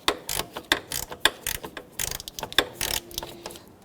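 A gear wrench swivel-head ratchet works the bottom fog light bolt on a 2006-2010 Hummer H3, giving quick, close clicking bursts of the pawl as the handle swings back and forth in short, uneven strokes.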